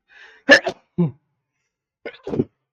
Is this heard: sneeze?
yes